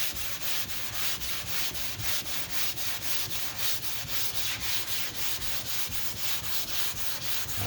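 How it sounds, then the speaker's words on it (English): Hand sanding of 2K primer on a car body panel along a body line, a close, loud, steady rhythmic rasp of back-and-forth strokes, roughly three to four per second, continuing without pause. "I'm gonna sand just a little bit more right here."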